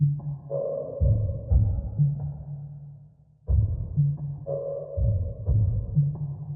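Ambient percussion sample run through Portal, then panned and EQ'd with highs and lows cut: soft, hazy pulsing tones with muffled hits, repeating in two phrases with a short dip between, subtle and alone.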